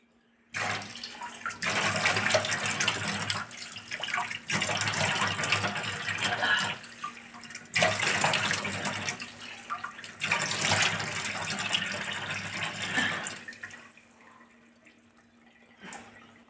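Water runs steadily from a household tap in a home kitchen or washroom, rushing in long continuous stretches with brief breaks before tapering off near the end.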